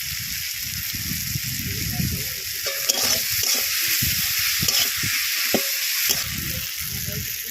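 Spices sizzle and fry in a hot pan for a Bengali brinjal and dhela fish curry, a constant loud hiss broken by scraping stirs and small pops, with no voice over it.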